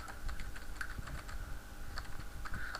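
Quick, irregular clicks of a computer keyboard as code is typed, close and fairly soft, with no voice.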